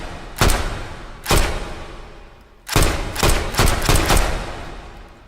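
A gun fired on semi-automatic: about seven loud, sharp reports close by. The first two shots are widely spaced, then a quicker run of single shots follows, with no talking.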